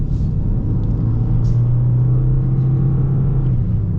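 Steady low engine rumble from a Toyota Corolla Hybrid's 1.8-liter four-cylinder while driving, a loud continuous drone heard from inside the car with no talk.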